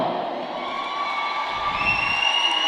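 A packed crowd at a roller derby bout cheers and whoops in a steady, distant roar with no break, a faint high whistle-like tone rising above it near the end.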